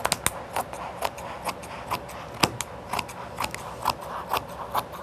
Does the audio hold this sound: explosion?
no